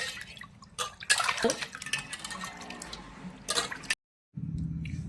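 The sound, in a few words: washing fish in water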